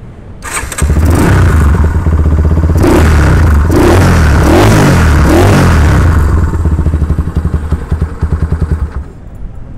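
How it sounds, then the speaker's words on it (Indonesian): A custom Yamaha Scorpio motorcycle built as a bobber cafe racer, engine starting then revving hard in repeated throttle blips over a steady loud idle, close up with no talking. "suara dari Yamaha Scorpio konsep bobber cafe racer"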